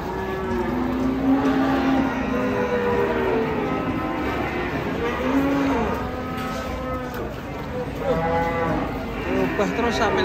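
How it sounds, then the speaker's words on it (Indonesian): Cattle, one of them a one-eyed cow, moo repeatedly in long, loud calls that overlap and recur across the whole stretch amid a busy herd, with voices faintly in the background. "Kasihan ini sapinya."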